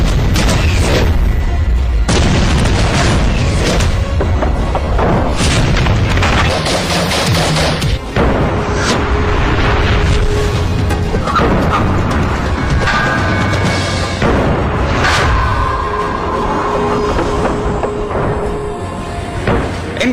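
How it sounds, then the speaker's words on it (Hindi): Bursts of gunfire from Israeli assault rifles, loud and dense throughout with rapid overlapping shots and booming reports, no talk. "इन गनों का निशाना और ताकत तो आपने देख ली।"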